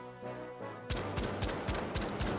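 Rapid bursts of gunfire from a weapon in the video game The Finals, fired without recoil control: about six sharp, evenly spaced shots ring out loud and close after a quieter lead-in.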